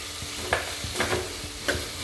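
Bell pepper stirred in a frying pan for a kudamilagai chutney, an ongoing sizzle with several distinct scraping stirs of a spoon against the pan, close and fairly clear, no talk.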